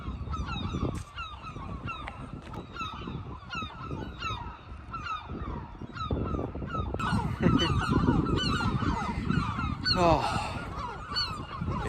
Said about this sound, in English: Listen to them seagulls.